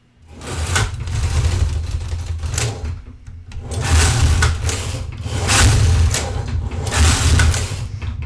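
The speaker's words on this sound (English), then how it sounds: "let's knit some ribbing" A Singer knitting machine knits 2x2 industrial rib. The carriage makes loud, continuous rattling and clacking in repeated passes with brief lulls between strokes, close and alone without talk.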